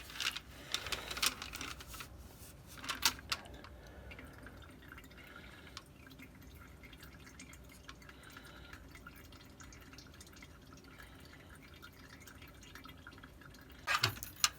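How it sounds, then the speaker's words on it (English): Brake fluid drips from the opened bleed screw of a BMW F20 into a catch bottle, soft irregular drips and trickles with a few louder clatters near the start and end, quiet overall. "release the bleed screw a quarter of a turn and the fluid will flow towards the catch bottle"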